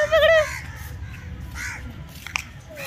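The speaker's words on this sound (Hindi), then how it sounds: "देखो कौवा आया पीछे" A crow gives a short caw at the start, followed by faint chatter and scattered small noises in the background.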